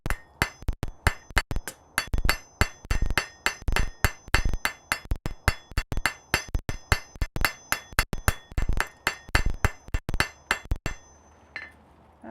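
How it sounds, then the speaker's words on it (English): A rounding hammer strikes hot metal on an anvil in a smithy to smooth its texture. The blows are loud, sharp and ringing, coming in steady rhythmic bursts throughout and stopping near the end. "Let's smooth it out with the rounding hammer."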